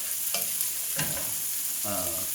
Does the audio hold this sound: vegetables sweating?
yes